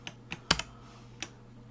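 Keys clack on a PC keyboard: a few sharp, close taps in quick succession, then one more after a short pause, with no voice present.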